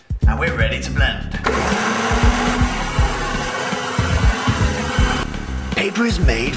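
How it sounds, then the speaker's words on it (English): A blender whirs loudly and steadily, grinding scrap paper and water into a wet, pulpy mix, while a person talks over the motor. "Here, we're blending the scrap paper so that all of the fibers are torn apart"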